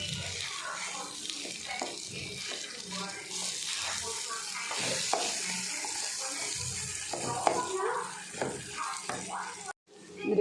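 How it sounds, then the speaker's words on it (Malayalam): Water pours steadily into a simmering chicken masala curry pot, splashing and bubbling for several seconds while a person talks over it. "ഇനി നമുക്ക് ഇതിൽ കുറച്ച് വെള്ളം ഒഴിച്ചെടുക്കണം"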